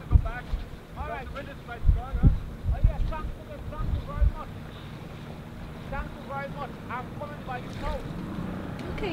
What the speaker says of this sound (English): All right, the wind is quite strong.